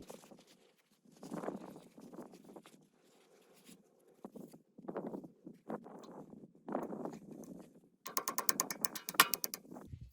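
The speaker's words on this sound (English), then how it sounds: "We're going to clean this off and take off the cotter pin." Small metallic clicks, scrapes and rattles come from working a cotter pin out of a greasy tow dolly wheel hub, quiet and close, ending in a quick burst of rapid ratcheting clicks.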